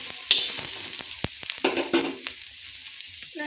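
Green beans frying in a pan, with a spoon scraping and stirring in short irregular strokes and clinks over a soft sizzle, close up and with no talk.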